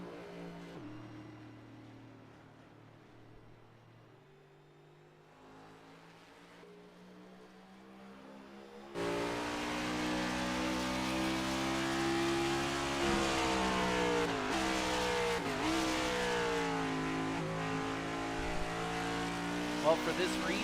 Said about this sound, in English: Looks like Lauren Vincent's back out there. They got the car fixed